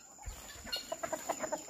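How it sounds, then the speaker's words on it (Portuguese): Chickens cluck close by in a farmyard coop, a run of short rhythmic clucks building into a quick series, fairly faint against a high steady background tone. "Olha lá elas lá, as aves, ó."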